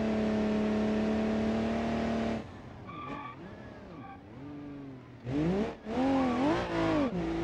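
A car engine in BeamNG.drive climbs the Pikes Peak course, droning steadily and then dropping off before revving up and down again through corners, with a tyre squeal near the end, fairly close and clear.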